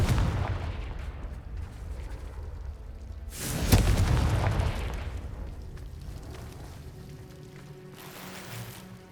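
Confringo blasting spells in Hogwarts Legacy set off explosions: a rumbling low wash rises into one loud, sharp boom near the middle, then a long decaying rumble and a smaller burst late on.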